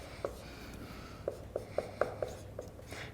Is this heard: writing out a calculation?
yes